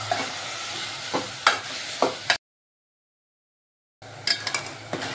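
Chopped onion and tomato fry and sizzle in a pan for Marathi hotel-style pav bhaji, a utensil scraping through them in repeated strokes, with a silent break midway before the stirring resumes.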